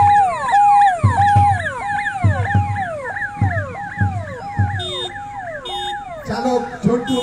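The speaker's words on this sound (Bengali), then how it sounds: "প্রথমেই বারুইপুর পৌরসভার অ্যাম্বুলেন্স, বারুইপুর মহকুমা শাখার ভারতীয় রেড ক্রস সোসাইটির অ্যাম্বুলেন্স" Ambulances of the Baruipur municipality and the Red Cross roll past in a Republic Day parade, a loud wailing siren cycling through repeated rising and falling sweeps about once a second, with a brief burst of other noise near the end.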